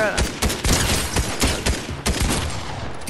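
Rapid bursts of shotgun fire from a sharp tooth shotgun in the video game Fortnite, loud repeated blasts in quick succession with dense crackling effects throughout.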